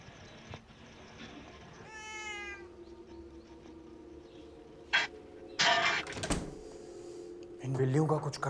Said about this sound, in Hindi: इन बिल्लियों का कुछ करना पड़ेगा